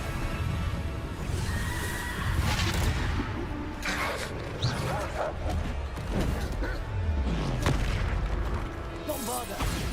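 Booming spell blasts of Bombarda in Hogwarts Legacy, repeated loud explosive bursts and crackling impacts packed close together amid busy game combat noise, with a voice talking over the action.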